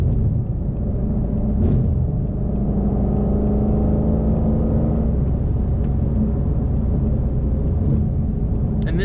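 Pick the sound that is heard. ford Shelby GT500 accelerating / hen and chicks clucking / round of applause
ford Shelby GT500 accelerating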